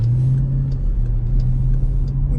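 The engine of a Jeep Grand Cherokee Trackhawk under hard acceleration gives a loud, deep, steady drone with a strong low harmonic rising slightly, heard close from inside the vehicle without speech.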